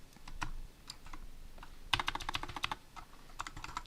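Computer keyboard keys tapped in quick bursts of shortcut presses at a desk while working in Maya, close and crisp with irregular clusters of clicks and short pauses.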